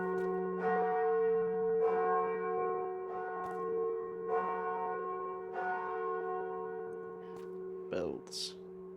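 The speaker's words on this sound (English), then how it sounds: "Bells." Bells ringing in the Minecraft video game, a sustained tolling with repeated strikes every second or so over a steady ringing tone, a voice briefly heard near the end.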